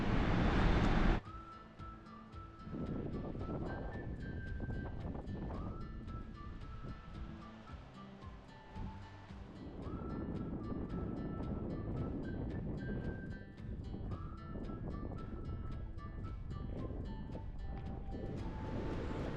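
Strong gusty wind of about 70 mph buffets the microphone on an exposed Scottish Highland coast at Kylesku, a loud continuous roar with surging gusts and rumbling low buffeting throughout.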